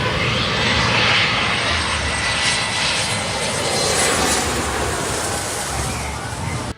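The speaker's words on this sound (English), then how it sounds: "There's just something so fascinating about these low over-the-beach landings." A fixed-wing airplane passes low over a beach as it comes in to land, its engine a loud, close, sustained roar that holds steady throughout and cuts off abruptly at the end.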